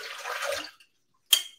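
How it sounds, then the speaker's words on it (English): Water pours briefly into a blender holding apples, a short close splash and gush followed by silence and a sharp final drip or clink. "let me put some water in"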